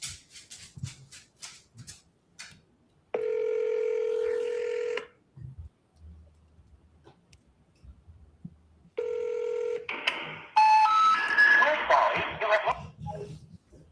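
Telephone ringback while calling a seller: two long, steady buzzing tones a few seconds apart, with dialing beeps and a person talking in between and after.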